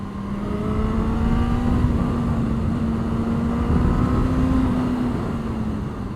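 A Suzuki GSX-S1000 2023 maxi-naked motorcycle at speed on rough asphalt, its engine holding a steady, loud drone with slight pitch wavering over constant wind rush, continuous throughout with no talk.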